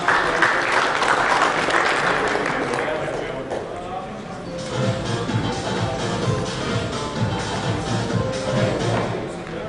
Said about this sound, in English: A round of applause for our winners, please.